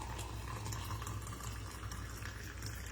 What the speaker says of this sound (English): And I already have my boiling water here that I did for my kettle. I'm just going to add it.